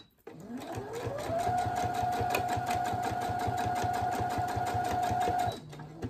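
Sewing machine stitching fabric for a cake bag, a close, loud rapid mechanical chatter that speeds up to a steady whirring run, then slows and stops.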